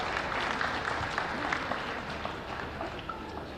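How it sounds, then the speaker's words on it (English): A crowd applauding steadily, the clapping fairly even and sustained throughout, heard at moderate distance. "Please welcome Mr. Abhinav Bindra with a huge round of applause."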